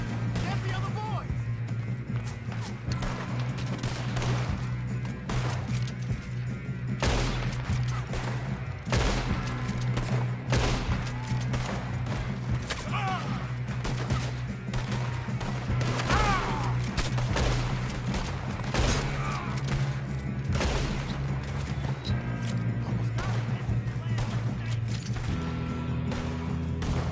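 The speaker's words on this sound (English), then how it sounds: "Quit shooting, kid." Rapid gunfire from a Red Dead Redemption 2 shootout, with repeated sharp shots scattered across a long stretch over a steady low hum, plus mechanical clicks and people talking throughout.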